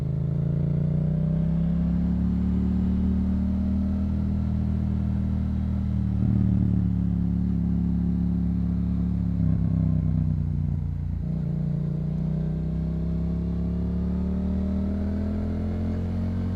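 Yamaha MT-07 motorcycle fitted with a Yoshimura exhaust, riding over a bumpy gravel road with dips: a steady, loud engine drone that rises and falls in pitch as the throttle varies, continuous throughout.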